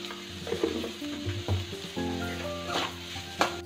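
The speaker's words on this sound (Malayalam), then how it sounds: "ആ എണ്ണയിലേക്ക് നമുക്ക് ചെറുതാക്കി മുറിച്ചിട്ടുള്ള 2 വലിയ ഉള്ളി ഇട്ട് കൊടുക്കാം" Chopped onions fry with salt in hot oil, a crackling sizzle marked by irregular stirring clatters and scrapes, close and moderately loud with no speech.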